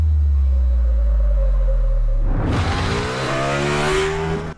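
Motorcycle engine revving hard as the throttle is rolled back on after braking, a low idle rumble swelling abruptly into a loud, rising, broadband roar that climbs in pitch and holds close by.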